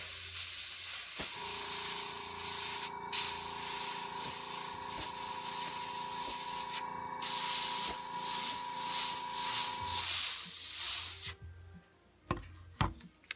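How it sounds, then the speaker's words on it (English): An airbrush hisses steadily as it sprays paint onto a model horse, a soft continuous airy spray broken by two brief pauses, then stopping near the end with a few faint clicks. "Airbrush is getting a little glob of paint on it, so get that cleaned off."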